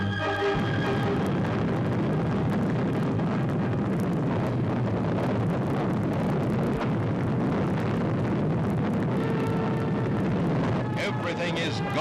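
An Atlas rocket lifts off carrying the Mercury Friendship 7 capsule, a loud, continuous roaring blast with heavy wind-like rumble filling the whole stretch, steady throughout with a slight change near the end.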